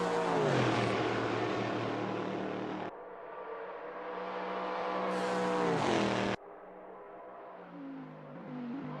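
Porsche race car engine in a racing video game at Le Mans, a high, loud revving wail rising through gears with abrupt shift drops, sustained and close, no talk.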